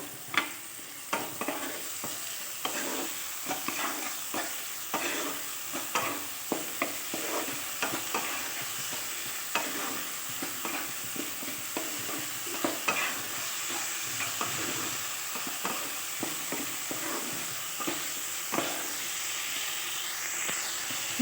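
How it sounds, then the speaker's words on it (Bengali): Spice masala with salt and turmeric frying in a pan for a paneer curry, a sustained close sizzle broken by regular scraping strokes of a spatula. "যে লবণ আর হলুদ দিয়ে দিয়েছি, দিয়ে ভালো করে কষিয়ে নেব মশলাটা"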